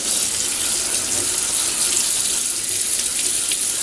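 A tap runs cold water to rinse blood from meat, a steady, close hiss of flowing water into a sink with no talking.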